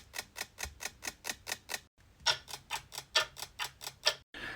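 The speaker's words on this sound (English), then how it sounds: "that's starting to sound like a tick" Synthesized clock ticks built from a short synth envelope, a steady run of crisp, evenly spaced clicks that pauses briefly and resumes at the same tempo, soft and close with no voices.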